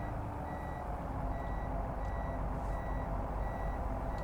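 Steady low drone of a Scania bus engine in OMSI 2, with a constant rumble and faint repeating high beeps, close and continuous throughout.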